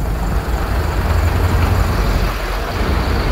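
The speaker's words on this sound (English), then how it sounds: "Did you see that vehicle? That's called a Pulmonía." Pulmonía open-air taxi with a Volkswagen engine driving by on a noisy street in Mexico, a loud, close low engine rumble with steady traffic noise around it.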